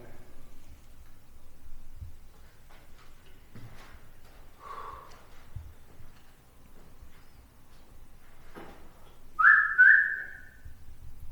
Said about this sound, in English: I heard a whistle then.